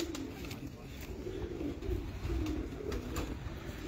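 A pigeon kept on a rooftop coos in soft, low repeated calls over a steady background hiss, with a few faint chirps and no talking.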